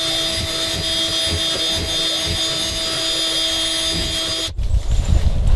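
A drill spins an Allen wrench bit at high speed to core foam out of plywood on a classic Boston Whaler Montauk, a steady close whine that stops abruptly near the end, followed by rustling handling noise.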